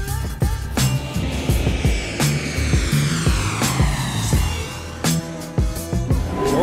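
Loud, constant rumbling roar of trams at a busy Boston subway station, with repeated sharp metallic clacks and thuds and a rising whine over the din, no talking.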